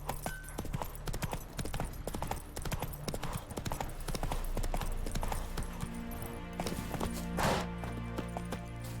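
Horse hooves clip-clop at a steady gallop throughout in the video game Witcher 3, a dense rhythmic pounding with game music and ambience layered underneath and no one talking.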